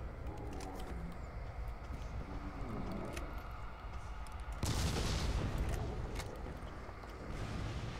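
Gunfire in the horror video game Call of Cthulhu: Dark Corners of the Earth, a steady crackle of shots over dense game noise, swelling into a louder, heavier burst about halfway through.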